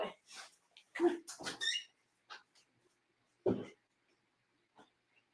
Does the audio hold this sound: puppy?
yes